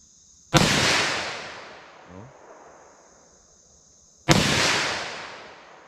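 Two loud, sharp pistol gunshots fired outdoors with .357 Sig and .357 Magnum ammunition, spaced several seconds apart, each followed by a decaying echo.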